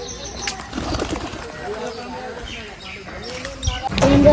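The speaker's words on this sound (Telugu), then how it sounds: "రెండు పావురాలు" Two pigeons flap their wings in a few short, sharp bursts outdoors in light rain, with a louder flurry at the end, over soft background noise and a faint voice.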